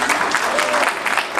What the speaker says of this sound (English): If we can give a round of applause to the California Wrestling Hall of Fame for this amazing evening